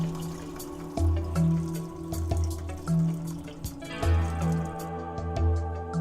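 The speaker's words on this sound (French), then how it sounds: "Mesurez correctement la quantité nécessaire de produit de nettoyage et versez dans le réservoir d'eau propre." Cleaning liquid poured into the clean water tank of a Hako Scrubmaster B90 floor scrubber, heard as close, steady watery trickling and dripping with splashy bursts.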